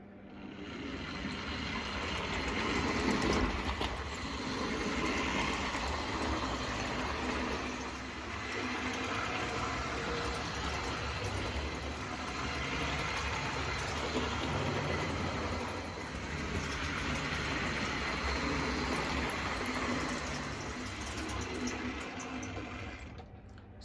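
Flying Scotsman model railway locomotive running steadily along its track and over the points, a continuous close whirring rumble with faint rhythmic clicking, no voices.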